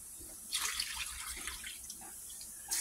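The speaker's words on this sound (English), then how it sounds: "let me add a little more water" Tap water pouring steadily into a cooking pot in a home kitchen, a close splashing rush that starts after a quiet moment, pauses briefly and then surges again at the end.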